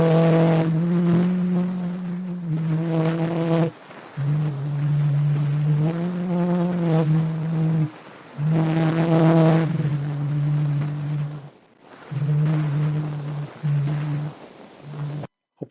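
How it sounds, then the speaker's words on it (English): A faint, scratchy 1860 phonautograph recording of a voice humming or singing Clair de la Lune in sustained notes, separated by short gaps, muffled and noisy. "That's the sound of Edward Léon Scott de Martinville humming or singing the song Clair de la Lune"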